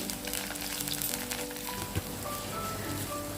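Onion, green chilli and tomato sautéing in a pan for a Kerala-style okra curry, giving a steady close sizzle and crackle with a soft stir or scrape near the middle, no one speaking.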